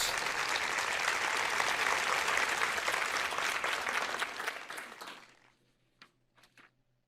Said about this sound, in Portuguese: eu não me importaria se alguém aplaudisse isto